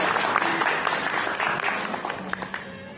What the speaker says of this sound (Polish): Wielkie brawa dla was,